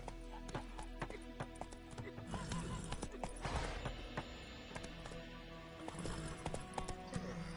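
A horse named Roach trots with steady, rhythmic clip-clopping hooves close by, joined by occasional creaks and background game-like ambience, with brief calls from a rider.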